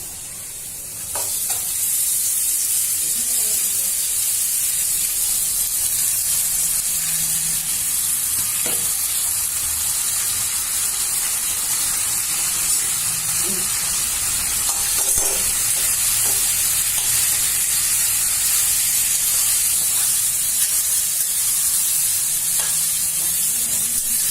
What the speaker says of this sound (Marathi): बटाटे लाल झाले मस्त भिजले आता आपण त्याच्यात साबुदाणे टाकू